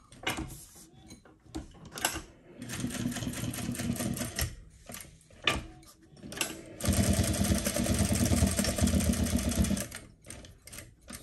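Heavy-duty sewing-type machine running in long bursts of rapid mechanical stitching, close and fairly loud, with brief pauses and handling clicks between runs and no talking.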